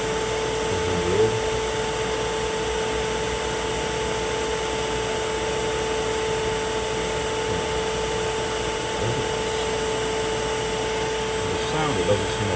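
A 1 hp three-phase 220 V motor driven by a YL600 VFD runs with a steady whine and tonal hum, holding a constant pitch throughout with faint background noise.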